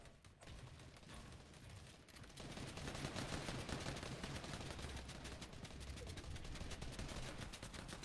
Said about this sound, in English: Oh my god, Popku with the headshot snipe.